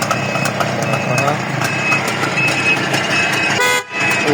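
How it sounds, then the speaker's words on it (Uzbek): A truck horn toots in short repeated blasts over a running engine and mixed traffic noise, fairly close and loud, with a brief dip near the end. "O bular signallar ham."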